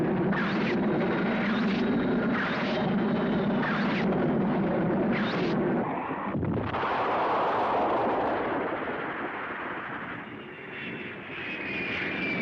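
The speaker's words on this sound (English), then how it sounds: "Did you see the force of that explosion as it hit the ground?" Film sound effect of an airplane carrying atomic weapons crashing into the ground and exploding: a dense, roaring blast with bursts of rumble that swells and then lingers as a long, heavy wash of noise.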